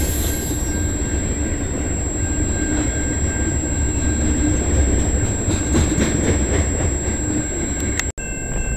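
A CN freight train heading to Sarnia rolls past close by, a continuous loud rumble of wheels on rail with faint squeals and clatter, fading slightly at the end.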